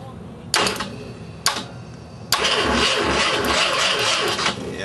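A 331 Ford stroker V8 that has sat unused for five years fires at start-up: two sharp isolated pops, then a third catch that settles into a rough, loud, continuous running rumble.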